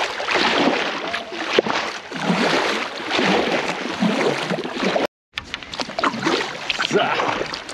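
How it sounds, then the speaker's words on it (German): Kayak paddling on the Baltic Sea coast at Bergkvara, Sweden: continuous close splashing and water sloshing from paddle strokes under windy ambience, with a brief dropout midway. "dann paddeln wir hier mal wieder um die Ecke"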